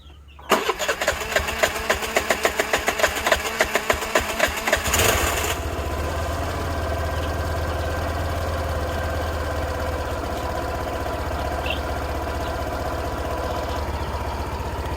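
A Suzuki Burgman Street 125 scooter cranks with a rapid starter rhythm for several seconds after a fuel filter replacement, then catches and settles into a steady, close idle.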